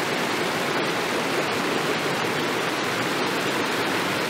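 A waterfall in Soberanía National Park, Panama, rushes in a steady, dense roar of falling water that fills the whole stretch without any break. No voices are heard over it.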